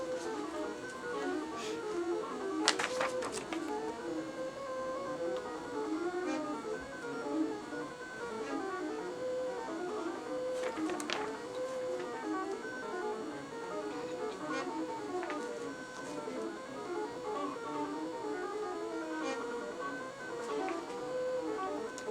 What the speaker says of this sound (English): start on this left edge and let it sew until it's past that embroidered area on the quilt